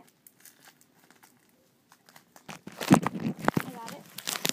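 Crinkling and crackling as a stuck diaper is tugged off a Baby Alive baby doll, quiet at first then louder plastic rustling and tearing-like sounds up close.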